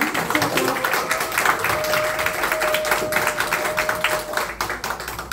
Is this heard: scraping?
no